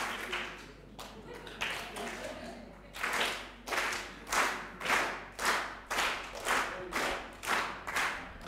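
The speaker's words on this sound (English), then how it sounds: "let's divide in half and give me a clap over here" Audience at a Salvation Army harvest festival clapping along with a corps band in a steady unison beat, about one clap every half second, loud and close, after a few seconds of scattered noise and murmur.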